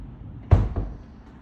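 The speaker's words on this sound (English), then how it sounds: "you just use the sliding door," A shower sliding door in a tiny house bathroom slides and bumps shut, one soft thud followed by a lighter knock, close and brief against quiet room tone.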